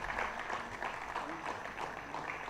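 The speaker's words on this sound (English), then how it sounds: "Please give them a round of applause." Audience at a national financial literacy quiz applauds prize-winning teams, a steady spread of clapping from a crowd filling the short stretch.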